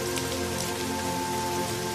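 Steady rain pours down in a village during the monsoon, a dense, even patter on surfaces with no pauses, close and fairly loud, alone without any voices.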